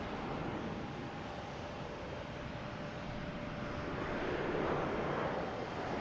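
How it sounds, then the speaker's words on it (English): A JetBlue Airbus A321 takes off at Boston Logan Airport, heard as a broad, steady jet engine roar at a distance that swells slightly toward the end. "we have JetBlue taking off, heading to Seattle on A321"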